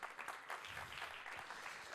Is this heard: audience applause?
yes